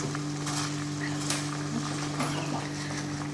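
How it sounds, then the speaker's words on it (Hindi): Water with guava leaves boils in a pot for tea, giving a continuous bubbling, sizzling hiss close by over a low steady hum, with no one speaking. "अब आप इस उबलते हुए पानी में थोड़ी सी जो पत्ती आप प्रयोग में करते हैं उसका प्रयोग कीजिए, और इस तरह से थोड़ा सा उबलने दीजिए।"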